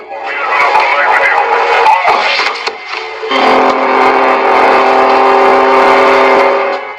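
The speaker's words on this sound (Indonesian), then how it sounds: "Setelah itu Joe mendengar suara saluran radio" A crackling, staticky radio channel with a voice-like broadcast, continuous and fairly loud, shifting in tone partway through.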